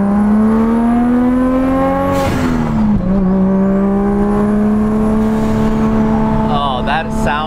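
A powerful turbocharged RB engine in a Datsun 280Z roars loudly and close, revving up, briefly dropping, then pulling hard again with a smooth, high-pitched whine.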